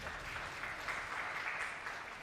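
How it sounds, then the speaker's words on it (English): Audience applause at a travel industry conference breakout session, a faint, distant patter of many hands clapping steadily for the panel, with no voices over it. "round of applause for everyone"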